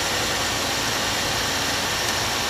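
A steady, smooth 2003 Chevy Malibu 3.1 liter V6 engine idling close by, a constant low rumble with broadband hiss and no voices.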